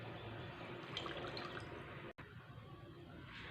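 Water that raw mangoes were boiled in is poured into glasses for a chilled drink, a steady close splashing and trickling with faint dripping throughout and a brief break partway through.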